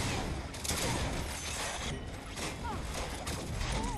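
Gunfire in the console version of LawBreakers during a Blitzball match: a dense, continuous barrage of shots and impacts mixed with explosive crashes, with game voices talking over the action throughout.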